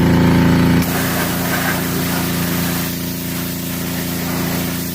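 A pressure washer blasts a zero-turn mower in a loud, steady hiss over an engine drone, with a slight change in tone early on as the spray shifts, close and unbroken with no talk.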